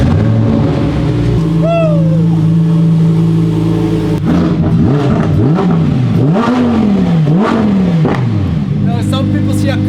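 A supercar on export plates is driven out of a garage, its engine idling loud and close, then blipped in several rising and falling revs.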